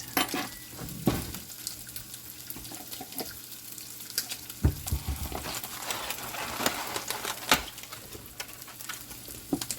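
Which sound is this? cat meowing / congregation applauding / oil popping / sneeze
oil popping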